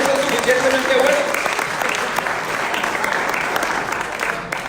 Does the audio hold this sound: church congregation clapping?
yes